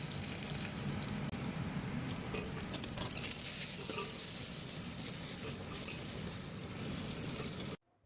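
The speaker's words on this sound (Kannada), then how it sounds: "ಈರುಳ್ಳಿ ಬೆಳ್ಳುಳ್ಳಿ ಎಲ್ಲ ಚೆನ್ನಾಗಿ ಫ್ರೈ ಆಗಿದೆ" Onion, garlic and curry leaves frying in oil in a pan for a green gram dal, a steady dense sizzle with faint stirring that cuts off abruptly at the end.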